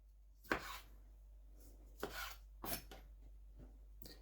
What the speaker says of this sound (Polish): No i teraz pokroimy pomidorki koktajlowe.